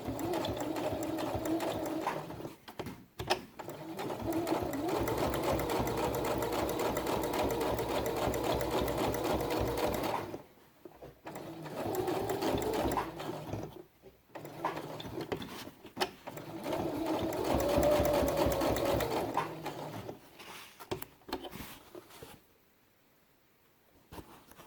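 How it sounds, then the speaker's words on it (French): Sewing machine stitching about 2 mm in from the edge of a felt squirrel tail for a quiet book page, running in long steady bursts with brief stops between them, close and alone. "maintenant je vais coudre sur le bord de la queue à peu près 2 mm"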